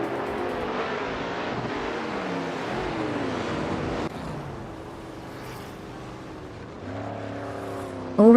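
Ferrari 330 P4 and Jaguar XJ13 race cars roar along a track in a steady, loud engine drone that eases and thins midway, then swells again with rising revs near the end; no talk.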